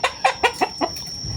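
A chicken clucks five times in a quick steady rhythm, close and clear, over a steady high-pitched whine.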